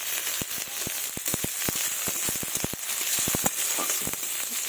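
Chopped onion and garlic fry in mustard oil in a kadai, a soft steady sizzle peppered with sharp pops and crackles, close and moderately quiet.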